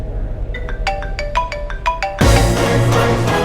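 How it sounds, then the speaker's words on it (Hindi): A mobile phone ringtone plays a short run of repeated bright electronic beeps, fairly clear against a quiet indoor background, then is swamped by a sudden loud broadband noise. "किसका फोन बज रहा है?"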